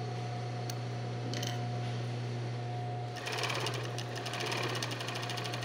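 Industrial coverstitch sewing machine stitching fabric, a steady fast mechanical chatter that starts partway through over a constant motor hum, close and fairly quiet, with no talk.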